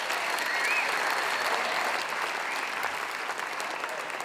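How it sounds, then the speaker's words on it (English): Audience applause at the 2007 Musicoz music awards show, a full dense round of clapping from a crowd that stays strong and then eases slightly toward the end. "Can we please give them a round of applause also?"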